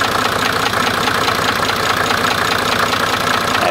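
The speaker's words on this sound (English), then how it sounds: "Now I have to go start up the engine and again check for possible leaks." A Mercedes diesel engine idles right after start-up following a fuel pre-filter replacement, a loud, steady close-up clatter with a fine rhythmic knock and no talk.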